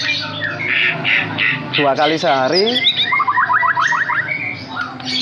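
A white-rumped shama (murai batu) calls with loud squawks and rapid, sweeping chirps, bird sounds running continuously close by while someone speaks over them.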